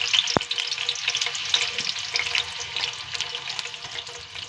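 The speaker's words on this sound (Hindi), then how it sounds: "ऑयल गर्म हो चुका, अब इसमें ऐड कर रही हूँ मैं प्याज।" Chopped onions frying in hot oil in a cooking pot, a steady close crackling sizzle with a sharp pop near the start and occasional stirring scrapes, no voices.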